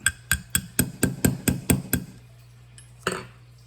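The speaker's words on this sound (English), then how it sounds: "So we get tap, tap, tap, tap, and start it a little bit." Eight evenly spaced metallic taps of a hammer on a sight pusher tool working a gun sight, close and sharp, followed by a short pause and one final tap, with no talking.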